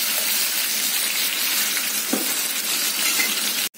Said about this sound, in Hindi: तो ये भी मैं अच्छे से थोड़ा फ्राई कर लूंगी।